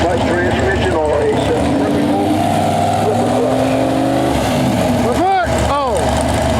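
A pulling tractor with a CVT-style transmission roars loudly at a county fair tractor pull, its engine tone sliding and revving up and down, while a crowd talks and cheers loudly over it throughout.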